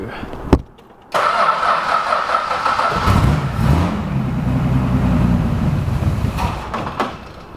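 A Chrysler VJ Valiant ute engine cranks briefly after a sharp click, then catches at about one second and settles into a steady, fairly loud idle that runs on alone.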